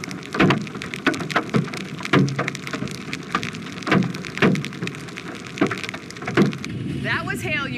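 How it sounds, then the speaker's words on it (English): Heavy rain and hail pound down during a Texas storm, a dense constant patter broken by repeated sharp impacts roughly every half second to second, loud and close, with a voice briefly heard near the end. "hail you were hearing, and heavy rain"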